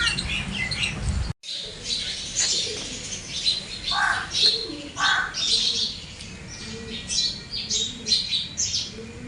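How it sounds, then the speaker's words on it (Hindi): Birds call and coo continuously around an old royal-era stepwell in Khoh Gang, with chirps, squawks and dove-like cooing at moderate distance, a brief wing flutter, and no talk over them. "पीछे आप पक्षियों की आवाज़ सुन रहे होंगे"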